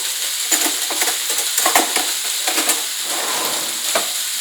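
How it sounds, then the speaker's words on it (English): A spoon stirs potatoes around a hot pan for samosa filling, making steady scraping and sizzling with repeated metallic clinks, loud and close, with no voices. "I'm going to now just go ahead and mix my potatoes here."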